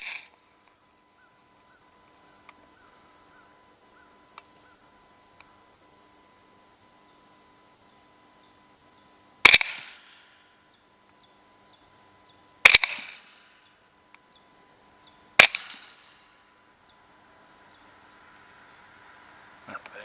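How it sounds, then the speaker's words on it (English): Three rifle shots from a 300 Blackout firing 208 grain Hornady rounds at an outdoor range, sharp close cracks spaced a few seconds apart, each with a short decaying tail, over otherwise quiet background. "This will be 3 rounds of 208 grain Hornady."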